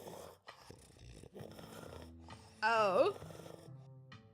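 A dog in the video game Scarlet Hollow makes odd snorting, grumbling noises with a brief loud squeal partway through, heard under and between narration-style speech.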